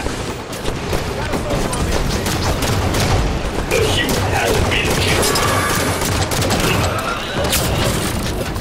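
Dense, continuous gunfire from a Halo 5 Warzone multiplayer match, rapid bursts and booms layered throughout, with in-game voices calling out over the shooting.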